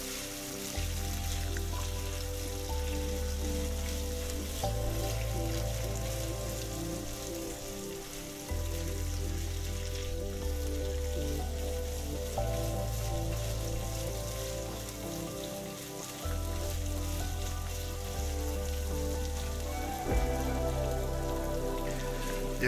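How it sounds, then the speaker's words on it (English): Onions frying in a pan for a bean sprout and tofu stir-fry: a continuous hissing, crackling sizzle like rain, steady throughout, under prominent background music with a repeating bass line. "we will wait till the onions gets translucent"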